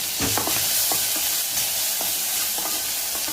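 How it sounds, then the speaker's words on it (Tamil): Onions fry with ginger garlic paste in a pan, a loud constant sizzle broken by repeated stirring scrapes and clinks, with no one talking. "வெங்காயம் நல்லா வதங்கிருச்சு"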